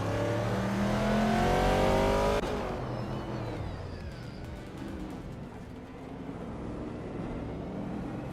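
Race cars in a video game race rev hard and accelerate near the start, a loud whining engine pitch climbing for a couple of seconds before easing into a steady, busier roar of several cars running together.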